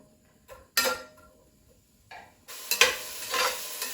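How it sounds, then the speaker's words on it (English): Onion sautéing in olive oil in a pan, heard as a few bursts of stirring and sizzling separated by near-silent gaps, then a busier stretch of scraping frying sound toward the end. "I'm going to get some onion sauteing."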